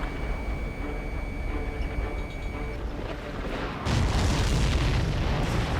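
An explosion in Ace Combat 7 booms in as a loud, broad burst partway through, following a steady electronic hum with a faint high tone.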